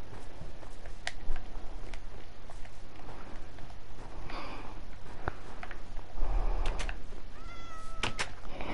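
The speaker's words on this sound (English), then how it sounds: "Meow to you too." A cat in the video game New World meows a few times, short, spaced calls over a quiet background with light tapping and rustling; no talking.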